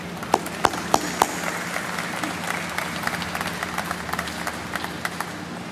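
An audience at a recycling facility's grand opening welcomes a speaker with steady, dense applause. Several sharp claps stand out at the start before the clapping settles into a sustained patter.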